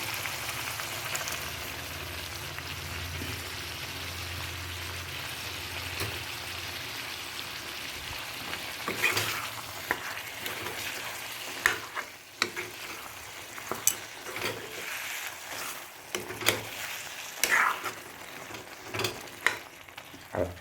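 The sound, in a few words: garlic ginger paste frying with chicken and potatoes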